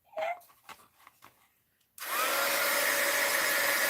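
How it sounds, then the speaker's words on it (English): A heat gun kicks on abruptly after a couple of seconds of quiet tapping and handling, then runs as a loud, steady blowing whir through the rest of the moment. "Heat gun alert."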